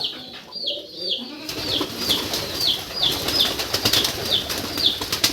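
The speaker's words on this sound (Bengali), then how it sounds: "কোন কবুতর দেখাবেন আগে? কোনটা দেখবেন আপনি? ওই সাদা কবুতর দেখো।" Pigeons' wings flap and flutter repeatedly in quick bursts, fairly close, at a pigeon farm, over a busy background hum with faint bird calls.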